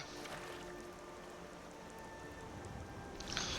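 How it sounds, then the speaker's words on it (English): Steady rain falls in the video game Skyrim, a soft continuous patter with faint tonal game sounds underneath and a brief brighter splash near the end. "Rain, rain, go away."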